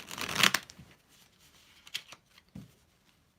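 Tarot cards are shuffled by hand: a sharp riffle burst near the start, then a few softer taps and slides spaced apart, quiet and close, with no talking.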